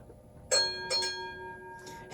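A small metallic model train trolley bell dings twice in quick succession, close and clear, followed by a fainter third ring as the tone lingers.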